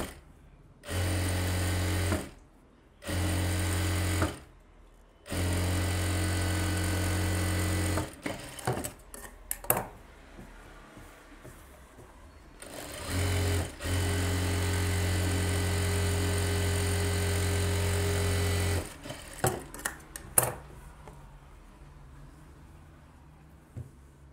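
A sewing machine stitching blouse fabric for a back neck design runs in several steady bursts of even motor hum, with short pauses between runs and quiet handling noises in the gaps.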